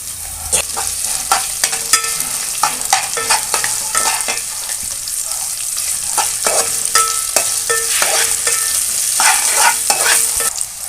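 Loud, busy sizzling and crackling of crushed amla paste frying in a hot oil tempering, with repeated scraping and stirring strokes against the pan.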